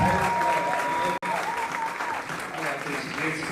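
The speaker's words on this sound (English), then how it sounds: "Y'all give him another round of applause" A live audience claps in a sustained round of applause at a community event, a dense steady roar that cuts out for a split second and then carries on at full strength.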